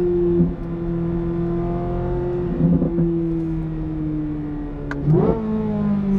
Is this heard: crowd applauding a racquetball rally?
no